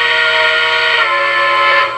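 A Lionel Legacy model train's electronic steam whistle sounds as one steady, loud, sustained multi-tone blast, held for about two seconds with no talking.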